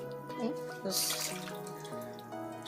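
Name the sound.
water dripping off washed banana leaves in a sink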